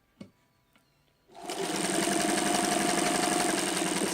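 Vintage Janome New Home sewing machine starting up after a couple of soft clicks, then running at a steady, even speed with a continuous close mechanical whir and rapid stitching rhythm.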